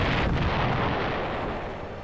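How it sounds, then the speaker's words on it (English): A torpedo detonates against the hull of the Housatonic as the Hunley attacks at night, a massive, rumbling blast that fills the moment and slowly decays in a heavy roar. "Suddenly, the night was rent by a tremendous explosion."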